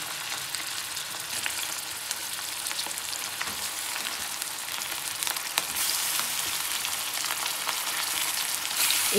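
Mutton sizzles loudly in hot oil with onions in a pot for shaljam gosht, a dense continuous frying hiss with occasional crackles and pops.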